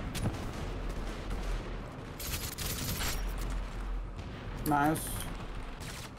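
Gunfire in a first-person shooter game where a Famas rifle is in use: sharp shots and bursts crackle under continuous game background noise, while a player speaks briefly.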